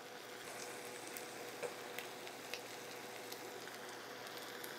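Baked beans and ground beef are stirred together in a casserole mixture, producing a soft, faint, continuous wet shuffling with a few light clicks of the utensil.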